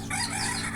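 Laying hens on a poultry farm give a steady mix of clucking and crowing-like calls, fairly close and continuous throughout, with no talk over them.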